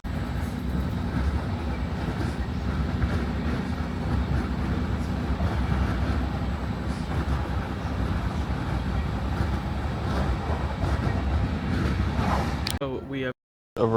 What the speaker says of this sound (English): that was quite a long train ride